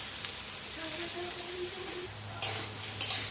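Potatoes stirred while frying in a pan: a soft scrape of a utensil against the pan over a low, steady sizzle, faint and close, with a couple of brief clinks near the end.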